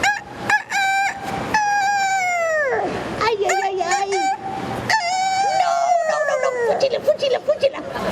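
A voice imitates a rooster crowing, giving long, warbling, drawn-out calls one after another, loud and close, during a children's storytelling night.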